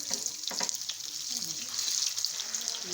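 Chapli kebabs fry in a pan over a medium flame, giving a steady close sizzle with soft crackles throughout and no voices.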